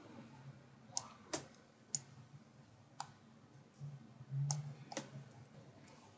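Mouse clicks while working with handles in Flash drawing software, a handful of sharp, isolated clicks spaced irregularly over a quiet room background with a low hum.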